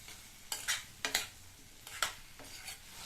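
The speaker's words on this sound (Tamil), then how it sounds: "இதில் நம்ம வேக வச்சு தோல் உரிச்ச உருளைக்கிழங்கை சேர்த்துட்டு இந்த மசாலாலையே இந்த உருளைக்கிழங்கை நல்லா வதக்கி விட்டுக்கணும்" Boiled, peeled baby potatoes sautéed in masala on high flame for potato karakuzhambu, with a soft steady sizzle and several sharp scraping stirs of a spatula against the pan, close and clear.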